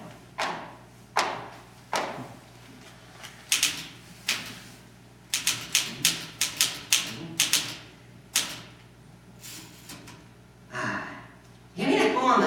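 Old-time radio comedy scene with a manual typewriter clacking in irregular bursts of loud keystrokes and thumps, with short pauses and a carriage-like rasp near the end, while people talk around it.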